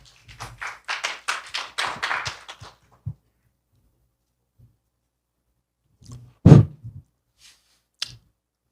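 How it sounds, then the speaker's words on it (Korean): A small audience at a Korean conference lecture on stablecoins claps sparsely for an arriving speaker, a short run of scattered, fairly close hand claps, then quiet with a few isolated taps and a soft thump. "여러분 큰 박수로 환영해 주시기 바랍니다"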